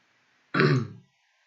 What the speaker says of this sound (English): Sorry, I've got a little bit of a cough today.